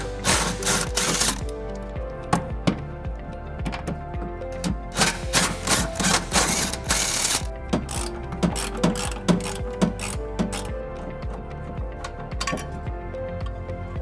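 Removing the tow hook bolts on a 2020 Nissan Rogue with a power tool: the impact gun rattles in repeated bursts, close and loud, with metallic clinks between them and no talking.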